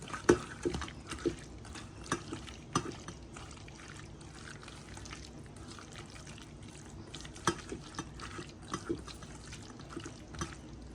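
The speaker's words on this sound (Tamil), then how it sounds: "போட்டு நல்லா இதை வந்து மிக்ஸ் பண்ணிடுவேன்" Food being stirred and mixed by hand in a pot while cooking, quiet irregular wet clacks and scrapes recurring throughout, close and soft with a faint watery background.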